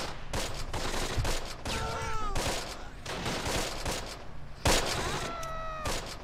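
Gunfire from German weapons in the Close Combat war game, a busy stretch of overlapping shots and bursts at steady loudness, with whistling tones and battle noise mixed in.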